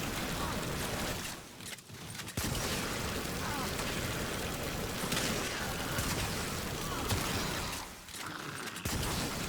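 Continuous weapon fire from the Atomos in the video game Warframe, aimed at enemies coated in Spores: a dense, loud, crackling barrage that breaks off briefly twice before resuming.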